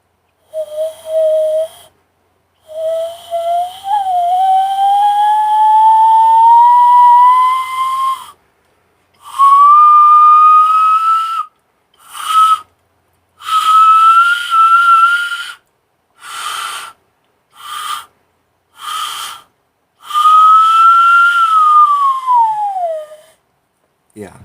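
Whistling through cupped hands, a clear tone sliding upward from low to high pitch over a series of sustained bursts separated by short pauses, fairly loud and alone.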